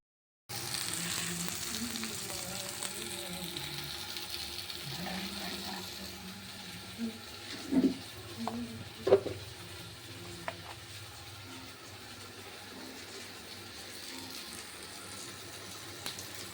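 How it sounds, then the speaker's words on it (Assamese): Fish sizzles and fries in hot oil, a steady close crackle filling the whole stretch, with a few louder spatters and clatters partway through. "এয়া মাছ ফ্ৰাই কৰি থকা হৈছে।"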